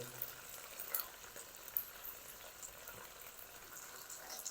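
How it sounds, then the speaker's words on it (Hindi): Coarsely chopped large onion frying in oil in a pan, a soft steady sizzle with faint crackles, fairly quiet and with no talking. "लाइट ब्राउन होने तक मैं प्याज को फ्राई कर लूँ"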